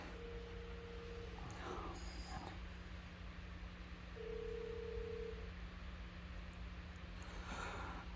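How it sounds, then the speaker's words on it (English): Phone ringing with an incoming call in a garage during an engine swap on an MR2, two faint tonal ring pulses separated by a few seconds over a steady electrical hum, with no talk. "sorry, I was getting a phone call."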